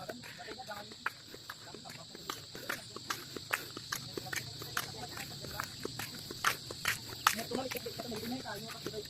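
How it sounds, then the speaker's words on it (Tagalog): Crickets chirp steadily in the background, with scattered soft footsteps and small taps on a long bridge over a quiet night ambience. "May naririnig na akong kuliglig."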